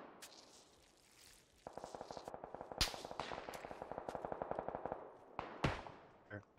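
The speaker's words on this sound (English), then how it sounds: "Someone back shooting in the blue still." Rapid automatic gunfire in the PUBG console game, a fast burst of evenly spaced shots running about three seconds, set among a few louder single cracks and softer distant shots.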